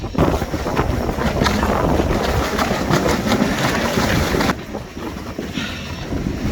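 Strong gale-force wind from Cyclone Gabrielle buffets the microphone with a loud, steady roar and rushing gusts throughout, dipping briefly near the end before surging again; no one speaks.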